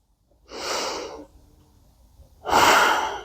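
Two slow, audible breaths during a yoga exercise, a long airy exhale followed by a pause and a louder second breath, close and unaccompanied by talk.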